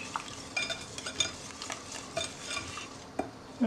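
Whisk stirring chocolate and coconut marble cake batter in a bowl, with flour being mixed in; a steady scraping swish with a few sharper clinks of the whisk against the bowl, close and moderately quiet, no voices.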